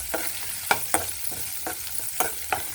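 Tempering of cumin, mustard seeds, chana dal, dry and green chillies and curry leaves frying in hot oil: close, lively sizzling with sharp scattered pops and crackles.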